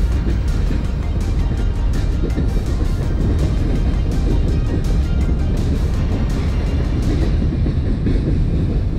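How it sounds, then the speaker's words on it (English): A train rumbles past close by, a continuous heavy roar with rhythmic clickety-clack of wheels over rail joints. "Get a picture of the train here as it goes by."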